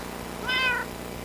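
A single short cat meow from the Minecraft video game on Xbox 360, a clear rising-and-falling tone lasting about a third of a second over a low steady background hum.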